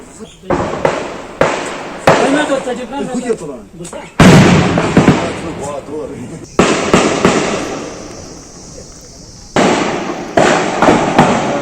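Gunfire during an armed encounter in Budgam, Kashmir: a series of sharp, loud cracks with echoing tails at irregular intervals over several seconds, while a voice talks between the shots.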